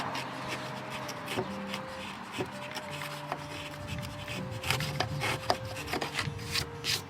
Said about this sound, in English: I'm not a patient man, so we're using power tools.